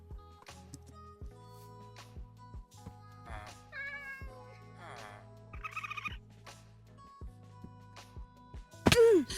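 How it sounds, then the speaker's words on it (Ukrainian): A cat meows repeatedly at close range, with a few drawn-out, wavering cries and a short burst of choppy mews, over a quiet room with a low steady hum and soft taps. A loud bump ends it. "Тут теж кіт є."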